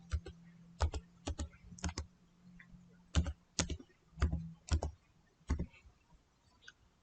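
Keys clatter on a computer keyboard in short bursts of quick clicks separated by brief pauses, close and fairly quiet against a faint low hum.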